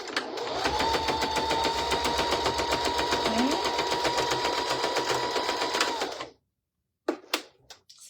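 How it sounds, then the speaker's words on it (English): A sewing machine runs steadily for about six seconds while stitching a fabric bowl cozy, a dense rapid needle chatter with a motor whine, ending with a brief back stitch before falling silent and a few small clicks. "We want to back stitch when we start and when we stop."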